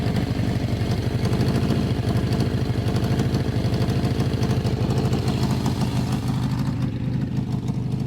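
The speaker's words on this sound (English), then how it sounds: "that sounds like a running motorcycle" A Suzuki GS650GL motorcycle engine idles loudly nearby with a steady, rapid chugging pulse throughout, no speech.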